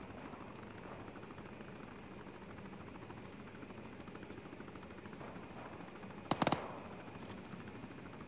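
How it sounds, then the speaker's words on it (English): Military helicopter flying in the video game ArmA, a steady rotor drone filling the scene, with a short burst of sharp gunfire-like cracks near the end. "Chopper."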